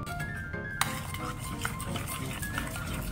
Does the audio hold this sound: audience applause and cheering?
no